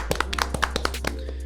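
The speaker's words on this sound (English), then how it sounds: "So, everyone, round of applause." A short round of applause for guests on a podcast, made of a handful of sparse, separate claps over about a second and a half, close and fairly quiet, fading out at the end.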